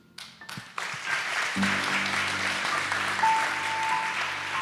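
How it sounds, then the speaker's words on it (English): Applause swells up after a few scattered claps and continues steadily, with a low hum and tone running underneath. "So applause to everybody."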